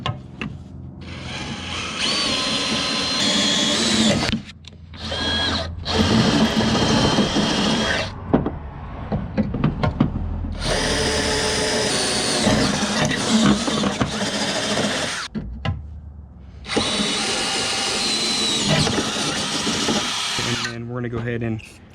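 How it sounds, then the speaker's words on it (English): A 5/16 drill bores holes into the bed of a Toyota Tacoma for bed stiffeners, whining loudly in several long bursts separated by short pauses. "take our 5/16 drill and drill all 3 of these"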